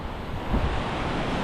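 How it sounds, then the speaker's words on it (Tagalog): Strong wind roars across the microphone over the steady rush of sea waves, a constant loud blustery noise with no voices. "Ang lakas ng hangin."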